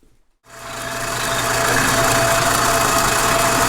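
A lathe spins up from silence and settles into a steady, loud mechanical hum while cutting threads on a 3/4-inch drill rod mandrel, constant and alone with no voices.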